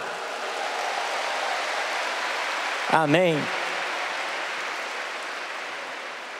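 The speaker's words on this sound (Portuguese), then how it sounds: "Eu quero que você dê um aplauso para o seu trabalho." A church congregation applauds in steady, dense clapping that runs through the whole stretch at even loudness, with a single brief spoken word from someone partway through.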